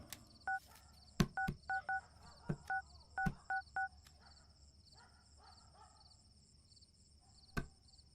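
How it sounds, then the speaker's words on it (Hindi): Touch-tone telephone dialing: a run of short keypad beeps in quick uneven groups, some sharp clicks between them, over a faint steady hum, with no talking. "कुमार को फोन करके आने के लिए बोल"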